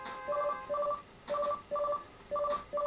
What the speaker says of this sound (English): We got another call. The phone is ringing.